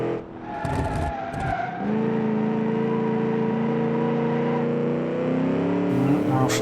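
A 1,000-horsepower sports car in Automation brakes hard, with sustained tire squeal and a screech layered over the engine note, loud and close for several seconds.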